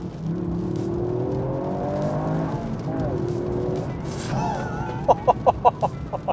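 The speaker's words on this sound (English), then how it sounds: "let me drop a gear." A Toyota GR Yaris engine whines up through the revs, dips briefly at a downshift, then pulls hard again, followed by a few quick knocking sounds near the end.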